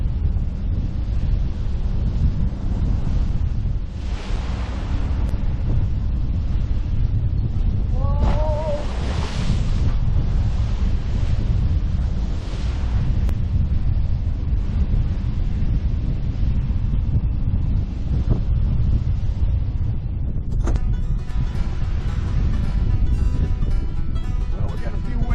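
Wind and waves while sailing from Kincardine to Tobermory, a constant loud rush of wind buffeting the microphone over surging water, with a brief whistling creak partway through.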